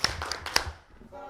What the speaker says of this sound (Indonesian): Kalau siap belajar tepuk tangan.